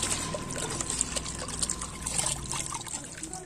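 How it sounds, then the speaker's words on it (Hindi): Radish greens (muli bhaji) being washed by hand in a basin of water, a steady close splashing and trickling that runs throughout. "जब भाजी को अच्छे तरीके से धो लेते हैं"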